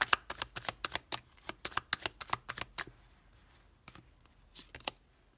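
Tarot cards are handled and laid down over the eight of swords, giving a quick run of soft, close slaps and shuffling flicks that thin out into a few scattered taps, quiet and without speech.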